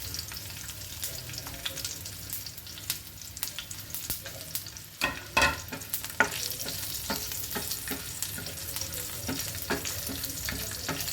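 Shahi jeera (caraway seeds) fry on a tawa over a low flame for an egg masala, a steady soft sizzle with repeated scrapes and clicks of stirring, louder taps around the middle.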